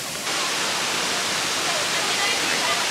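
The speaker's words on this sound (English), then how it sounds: "it looks like one of the best waterfalls I have ever seen in my whole life" A huge waterfall on Australia's east coast roars as a steady, loud broadband wash of falling water, continuous and close, with no other sounds standing out.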